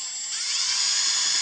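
A drill bit bores into the set screw point of a Timber King 1400 log turner, a steady high metallic whine that holds at close range and grows slightly louder as the bit bites.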